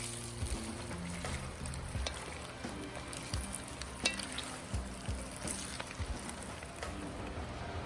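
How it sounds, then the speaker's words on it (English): Meat for smoked brisket chili browning in a pot, a steady soft sizzle and crackle with occasional sharper pops, close and continuous throughout. "we're just going to toss a few at a time so we can make sure these all get nice and browned up"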